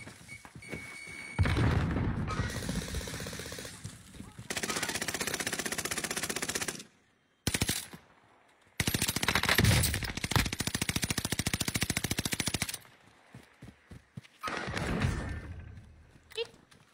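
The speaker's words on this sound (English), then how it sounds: "I don't know, but I'm getting shot at." Video game gunfire comes in long bursts of rapid automatic shots, loud and dense, with short gaps between bursts. Players talk over the shooting throughout.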